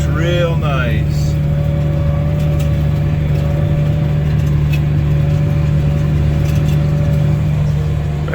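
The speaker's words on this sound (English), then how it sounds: "it's making the engine go to 1500 RPM." A farm vehicle's engine runs at a steady 1500 RPM while pulling at about 7 miles an hour during corn harvesting, a constant, loud, close droning hum.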